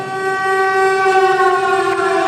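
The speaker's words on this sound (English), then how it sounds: "just as the ferry building siren was announcing 8 o'clock at downtown San Francisco, I got Rembrandt on the phone." Ferry Building siren in downtown San Francisco sounding the hour in a radio drama: a loud, steady sustained wail holding one pitched tone with rich harmonics, continuous and alone throughout.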